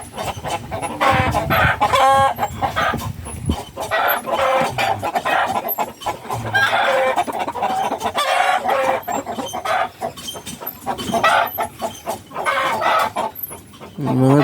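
Ten-month-old Rhode Island chickens cluck and crow steadily, loud and close, with overlapping calls and a rooster crow rising through the busy flock sounds.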